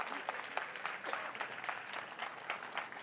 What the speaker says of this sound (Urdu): زوردار تالیاں خداوند یسوع مسیح کے لیے